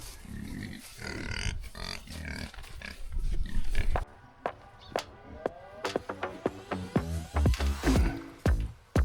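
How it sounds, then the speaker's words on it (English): A group of pigs grunting and squealing together on a building site during floor screeding and new calcada paving work, the calls loud and overlapping in bursts, with sharp clanks and knocks of work mixed in. "And we're joined by a pig chorus."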